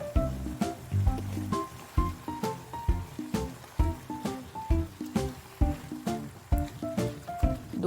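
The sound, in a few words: mixing pork bulgogi with sauce, onion and carrot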